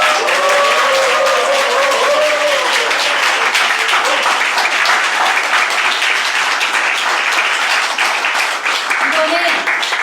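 An audience at a book concert applauds after a two-person singing performance, dense sustained clapping filling the room for the whole stretch, with a voice speaking over it at times.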